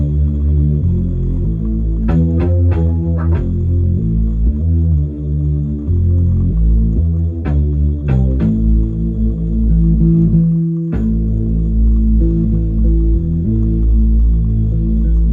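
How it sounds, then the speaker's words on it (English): Bass guitar playing a melodic R&B-style line, with deep, round sustained notes moving in a flowing pattern alongside a keyboard bass and occasional percussive hits, loud and continuous with no talking. "So bass is doing a more melodic approach here, which kind of gives it more of a R&B twist"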